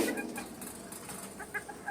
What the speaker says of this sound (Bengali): মুরগিগুলো আমাকে দেখে কি করছে খাওয়ার জন্য খাবে আর তো ডাকাডাকি করে